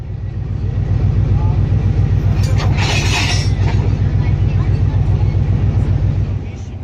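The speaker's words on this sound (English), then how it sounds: "Here's our engine being attached to the train." A 1980 Luhansk-built 2TE10 diesel locomotive being coupled to a night train, with a loud, steady low diesel rumble throughout and a brief metallic clank partway through.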